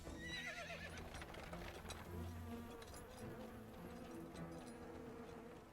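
An agitated horse whinnies among a noisy scene, the neigh high and shaky at the start, followed by scattered hoof clops and a steady buzzing drone throughout, with no voices.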